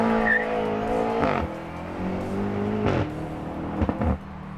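A 2018 BMW M5 with its stock exhaust, the engine droning steadily with several sharp rising bursts of revs and tyre noise, heard fairly close with no talk.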